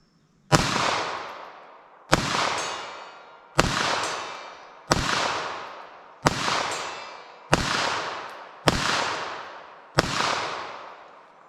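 Eight .380 ACP ARX rounds fired one at a time toward a distant hill, each a sharp loud report with a long ringing echo tail, spaced roughly one and a half seconds apart, no talking.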